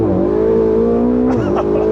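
A rebuilt Ferrari 488 engine revs hard and accelerates, a loud steady high drone that climbs and then shifts near the end, heard from close by.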